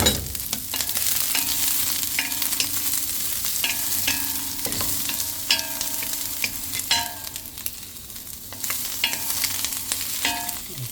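Ginger sautéing with onion in a pan for chicken tinola, a steady close sizzle and fry with repeated scraping and stirring clatters of a utensil against the pan throughout, no talking.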